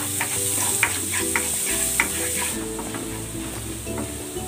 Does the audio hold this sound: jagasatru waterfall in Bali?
no